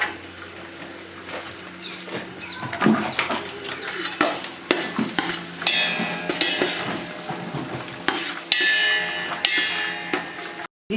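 Raisins dropped into hot frying oil for basanti pulao crackle and sizzle in a pan, with stirring and scraping of a utensil against the pot, steady and close with brief clatter near the end.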